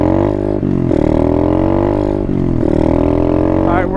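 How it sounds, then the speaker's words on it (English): A dirt bike engine revs loudly and close while shifting down through the gears, its harmonic drone rising and then dropping at each shift, with a few clear pitch breaks as the gears change. "You over rev the bike way too much."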